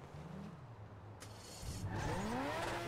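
An F1 car engine in GTA 5 holds a steady low whine that rises into a louder revving climb partway through, with the pitch sweeping upward as it accelerates.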